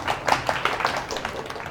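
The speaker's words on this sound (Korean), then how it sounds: "박수로 작가님의 강의를 맞이하겠습니다" An audience claps to welcome a novelist onto the stage at a webtoon talk lecture, with scattered, fairly light hand claps tapering off over a couple of seconds.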